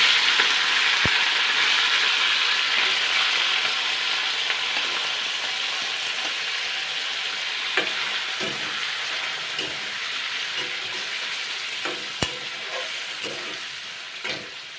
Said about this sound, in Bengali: এবার আমি এটাকে কিন্তু ভালো করে ভেজে নেব